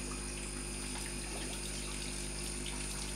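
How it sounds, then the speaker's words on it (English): Aquarium water siphoned out of a bare-bottom 31-gallon convict cichlid tank during a water change: a steady, close, continuous watery rush with pump-like hum, no talk. "as I'm siphoning out the water."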